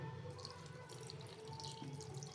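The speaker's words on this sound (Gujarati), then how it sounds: "પાણી નાખશું થોડુંક।" Water is poured into a cooking pot of potatoes seasoned with jaggery, salt and cumin for Surati aloo puri. A faint, steady trickle and splash runs throughout, quiet and close.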